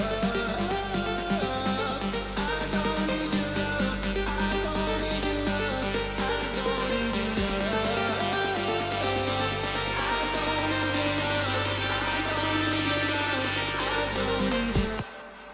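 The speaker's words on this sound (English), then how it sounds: "So let's hear the final build-up." Final build-up of a future rave electronic dance track, playing loud and dense throughout with sustained deep bass and bright layered synths, cutting off abruptly near the end.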